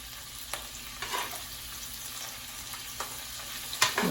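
Octopus and seafood cooking in a pan over medium heat, a soft continuous sizzle with several sharp clicks and clatters of a utensil against the pan, close and fairly quiet, no speech.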